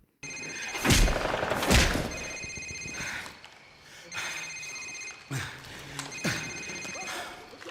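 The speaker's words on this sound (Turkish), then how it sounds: "Al-Asad'ın cep telefonu çalıyor" A cell phone rings in a Call of Duty: Modern Warfare cutscene, with repeated electronic trill bursts in distinct groups over dim background game noise, loud and close.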